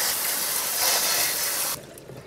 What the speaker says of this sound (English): Now I rinse a little bit like this.